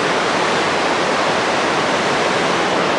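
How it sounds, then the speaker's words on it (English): The Milk River rushes below a trail on the Everest Base Camp trek in Nepal, a loud, constant broadband roar of fast whitewater with no pauses and no voices. "There's the Milk River"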